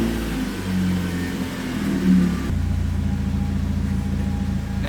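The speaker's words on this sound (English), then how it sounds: "you guys are gonna hear a little bit of noises. Things are still setting in, and I have stiffer motor mounts" Engine of an Acura TSX with stiffer motor mounts while driving, a steady low rumble and hum from inside the car that swells briefly as it revs, then settles into a constant drone, with no talk.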